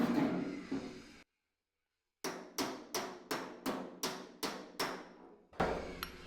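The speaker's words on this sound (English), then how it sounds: "So this dolly goes in there perfectly and allows us to hammer it" Nine sharp metallic hammer blows on a 1940 Ford pickup cab roof over a dolly, in a steady rhythm after a short silence, close and ringing, each strike bright and quickly decaying.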